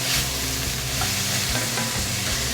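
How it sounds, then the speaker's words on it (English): Mirepoix vegetables sizzle steadily in a pan as they are stirred, with soft clacks and scrapes of the utensil against the pan while they cook down for an antelope shank sauce. "So I'm just gonna let that cook for a couple of minutes and let those get nice and softened."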